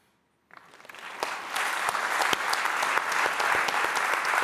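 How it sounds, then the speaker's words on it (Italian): An audience breaks into applause after a monologue about a pigeon by Mattia Torre. Clapping starts after a brief silence, builds quickly and holds as a steady, full round of many hands. "Un grande applauso a Valerio Brea"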